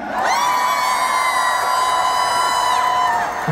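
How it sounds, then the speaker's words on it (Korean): An audience at an outdoor trot music festival in Daegu lets out a loud, sustained collective cheer and whoop that holds for about three seconds before fading. "여러분 박수 함성을 보내주시면 됩니다"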